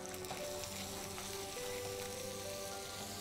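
Mutton chukka cooking in a pan just after the lid comes off, giving a steady, soft sizzle and bubbling crackle that continues evenly at close range with no voices.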